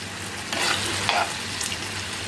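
Potatoes frying in a pan sizzle softly and steadily, with a few brief scraping stirs of a utensil over the crackle.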